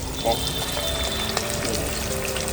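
Flour-coated fish fries in a little oil, giving a soft, steady sizzle that stays fairly quiet and close throughout, with a faint clatter near the start.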